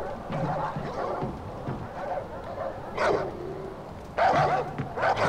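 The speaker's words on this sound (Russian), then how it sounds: "Тут и не одна собака." Several dogs bark in Far Cry 4 gameplay, sharp overlapping barks in bursts with short yips between, fairly close and loud over a steady game background.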